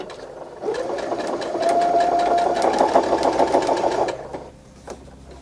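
Close sewing machine stitching a quilt block with a zigzag stitch, starting up into a fast, steady mechanical whir with rapid needle clatter for about three seconds, then stopping, with a few faint clicks afterward.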